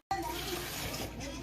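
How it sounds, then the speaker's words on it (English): Water pours steadily into a blender in one short, continuous splashing stream. "I'm gonna put about a cup of water."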